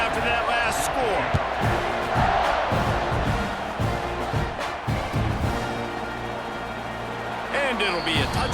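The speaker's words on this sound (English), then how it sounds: "this crowd is buzzing after that last score" A football stadium crowd buzzes loudly after a score, a steady roar of many voices with thuds and a commentator talking over it.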